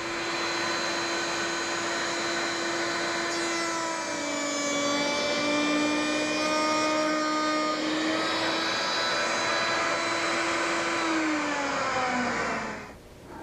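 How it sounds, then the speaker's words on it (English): Router table fitted with a rabbeting bit cutting rabbets in wood, a loud steady high whine with the pitch dipping as the workpiece feeds through, then spinning down at the end. "I've just gone ahead and put a rabbeting bit in my router table, and I will do this just in a couple of passes"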